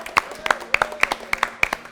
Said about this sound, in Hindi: सिप्तेन भाई के लिए तालियां बजाएं।